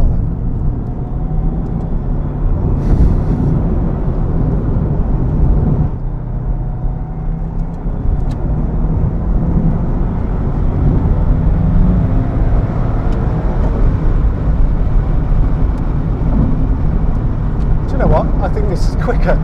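Interior engine noise from a Subaru Impreza WRX STI Type R Version 3, a sustained loud rumble with a brief dip as it shifts, then climbing again through the gears.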